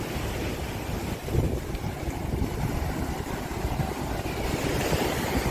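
A ferry boat turning around at sea off a Goa beach resort, heard as a steady rumble of wind and waves with low engine and water noise throughout, no talking.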